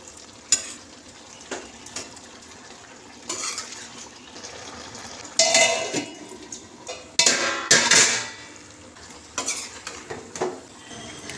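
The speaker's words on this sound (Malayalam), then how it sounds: "അവിയലൊന്ന് ഇളക്കി കൊടുക്കുക" Avial stirred in a pot: several bursts of a spoon scraping and clanking against the metal, with a soft simmer between strokes, close and fairly loud.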